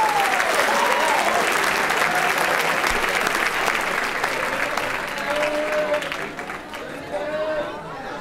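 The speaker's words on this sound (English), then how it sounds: "let's give these guys a great round of applause" Sustained applause from an audience after a philosophy competition, broad and steady with a few whoops or raised voices rising above it, easing slightly toward the end.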